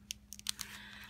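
A plastic bag is pulled open, giving a few quick, faint crinkles and rustles over about a second against a low steady hum.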